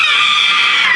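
A voice actress imitates a burning woman screaming, one loud sustained high-pitched shriek that holds steady for about a second, close to the mic at a convention panel.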